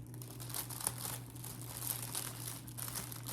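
Clear tape being pulled and pressed onto an Easter basket, giving soft crinkling and rustling close by over a low steady hum, with no talking.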